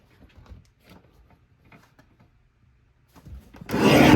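A paper trimmer blade slices through a neatly stacked pile of paper sheets for handmade cards: soft, sparse shuffling and rubbing first, then a single loud, close rasping cut near the end.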